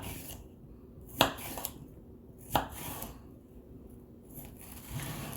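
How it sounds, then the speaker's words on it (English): Knife chops pork into small cubes on a cutting board: two sharp, distinct knocks stand out among softer taps and slicing scrapes, close and fairly quiet. "I'm gonna cut them into cubes."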